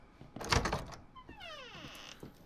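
Door opening in Resident Evil VII: a dull thump followed by a drawn-out creaking, whining sweep of the hinge, heard alone at moderate loudness, ending with a faint knock.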